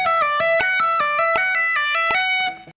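Electric guitar plays a fast legato lick of smooth, evenly spaced notes over a metronome at 80 bpm, sustaining clearly and fading at the end, with no talk.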